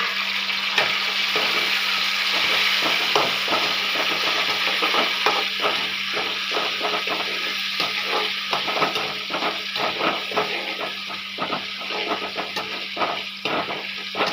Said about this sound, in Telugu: టమోటాలు వేగుతూ ఉన్నాయి చూడండి